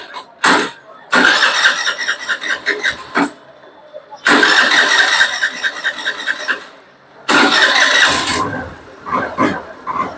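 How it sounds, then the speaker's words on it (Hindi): A Hero motorcycle with a faulty EOT sensor cranks and catches in loud, close bursts, several separate attempts divided by short silences, with a brief sputter at the start. "यहाँ अब गाड़ी चालू हो चुकी है।"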